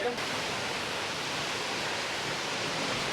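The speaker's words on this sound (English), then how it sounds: "you can see a beautiful waterfalls here at the end of the caves in full force" Steady, broadband roar of a waterfall pouring at full force beside the Ellora caves, a continuous rushing wash with no breaks, heard fairly close.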